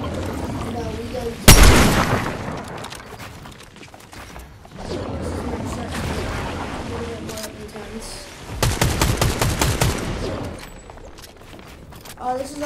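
Video game gunfire during a tournament match: a sharp loud shot followed by bursts of rapid fire and booms, mixed with game sounds and a voice speaking over the action.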